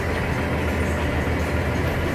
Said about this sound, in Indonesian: Dan mesin juga sudah dihidupkan.